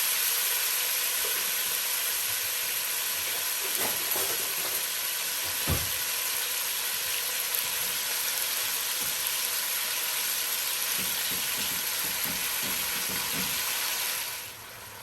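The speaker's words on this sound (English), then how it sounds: "you want the pan hot so everything sears good" Beef searing in a hot pan for birria tacos, a steady, loud sizzle that runs unbroken, with occasional soft clinks of stirring or turning, before cutting off near the end.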